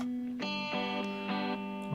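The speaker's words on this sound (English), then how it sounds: "Bringing in some reverb." An electric guitar with reverb added during mixing plays sustained chords that change several times, each ringing with a washy effected tail, close and steady with no voices.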